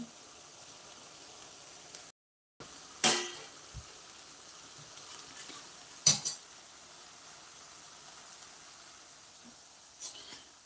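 A spoon or spatula scraping and knocking in a pan while grated coconut is mixed into an okra stir-fry, a few sharp clinks spaced seconds apart over a faint steady sizzle-like hiss, fairly quiet overall.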